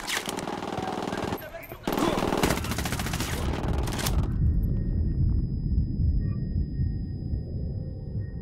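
Gunfire in Ghost Recon Wildlands: sustained automatic weapon bursts, loud and dense, with rumbling battle noise continuing underneath and some talk mixed in.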